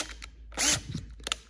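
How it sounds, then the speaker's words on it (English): Countersink bit being chucked into a drill while working on a Kalashnikov AK mag catch install, giving a quick series of close, dry ratcheting clicks and one louder turn. "We're going to chuck that countersink up"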